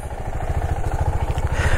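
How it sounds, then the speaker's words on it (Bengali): A motorcycle engine idling just after a cold start, a close, steady low rhythmic thump with slight mechanical clatter and no talk. "এটাকে একটু কোল্ড স্টার্ট দিয়ে নিই"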